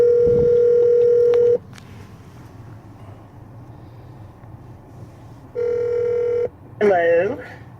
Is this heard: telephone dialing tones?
yes